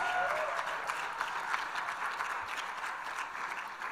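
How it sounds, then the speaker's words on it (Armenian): Audience applauding at an award ceremony, a sustained wash of clapping from a crowd at moderate distance, even and continuous throughout. "Բարձր ծափահարություններ։"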